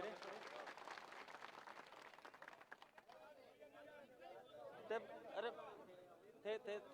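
Crowd applause with clapping and chatter greeting a speaker at a political rally in Sardarshahar, dense and steady through the first half, thinning later as an amplified voice speaks over the crowd.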